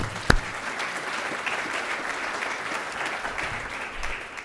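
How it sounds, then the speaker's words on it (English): Steady crowd applause for a woman at an annual foundation dinner, many hands clapping in a continuous, moderately loud wash, with a sharp single knock near the start. "let's give her a round of applause"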